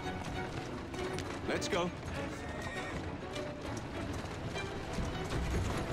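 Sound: horse hooves clip-clopping in Assassin's Creed Syndicate video game

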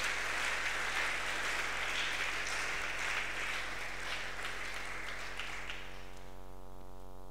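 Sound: applause

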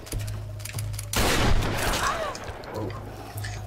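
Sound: gunfire while shooting in Tomb Raider video game

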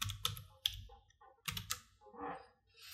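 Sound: typing on a computer keyboard

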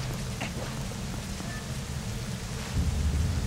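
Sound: rain and thunder in video game Zelda Twilight Princess

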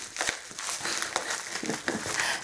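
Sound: tearing open a paper envelope

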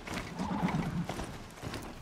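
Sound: horse mount hooves and whinny in Horizon Zero Dawn video game

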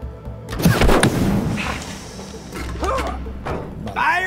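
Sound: gunshot in the video game It Takes Two

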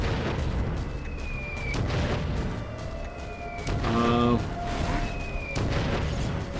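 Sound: wood bombs exploding in Skylanders Giants video game

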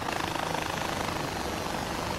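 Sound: helicopter flying in the video game Far Cry 4

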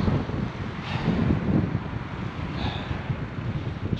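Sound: cold wind

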